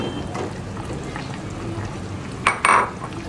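Tomatoes tipped into a cooking pot for a Bengali badshahi karahi dish, a short quiet stretch then two sharp clattering splashes as they land, close and moderately loud.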